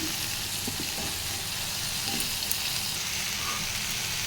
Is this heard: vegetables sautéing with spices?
yes